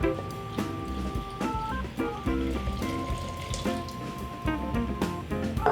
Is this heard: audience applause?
no